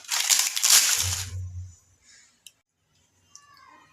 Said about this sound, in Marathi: आता आपण हा पापड हा चुरून घेऊयात याचा बारीक चुरा करून घेऊयात